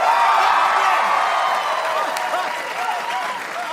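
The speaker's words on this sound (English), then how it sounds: "Y'all gotta clap again." A New York City comedy show crowd at a Kevin Hart set bursts into loud, sustained applause mixed with whoops and cheers, filling the room from start to finish.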